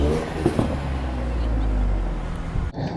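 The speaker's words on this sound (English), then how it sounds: "the tuner cars all have quite nice exhaust to them, so a lot of sound you will hear in this video." Tuner car exhaust at a seaside car show: a loud, close, steady low rumble that holds for most of the moment, then cuts off abruptly before resuming more quietly.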